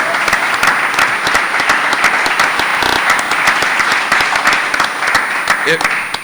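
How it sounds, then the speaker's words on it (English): Sustained applause from a crowd at a mayoral forum indoors, dense clapping that carries on steadily throughout, loud and close. "So it's okay to clap and stuff for people, right?"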